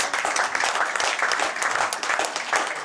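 A crowd at an 8-ball pool final in Darwin gives sustained, dense applause, with even, continuous clapping that stays loud for the whole stretch and has no speech over it.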